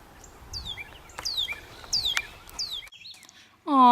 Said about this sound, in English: just listen to the birds here